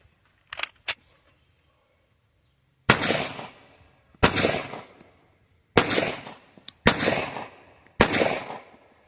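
Handgun shots fired one-handed, a sharp double crack followed by five loud, evenly spaced single shots, each with a short ringing decay and near silence between.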